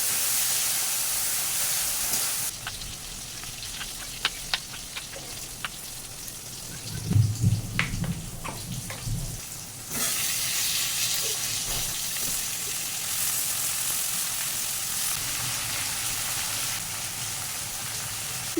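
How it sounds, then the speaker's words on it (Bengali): Onions dropped into hot oil with five-spice and dried chillies, giving a steady close sizzle and hiss that swells loudly for a stretch with brief crackles and pops. "এখানে 5 ফোড়ন আর শুকনো লঙ্কা দিয়ে আমি পেঁয়াজটাকে ছেড়ে দিলাম"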